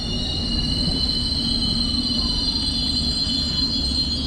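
A London Underground train pulls into a station platform near West Ham with a loud, steady rumble and high metallic wheel squeal that runs the whole time.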